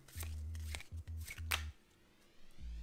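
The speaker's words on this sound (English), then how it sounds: "This is called the Hindu shuffle and it's super easy to do." Playing cards riffle and slap in quick bursts during a Hindu shuffle, short repeated flicks with a few sharp snaps, close up, with a low hum underneath.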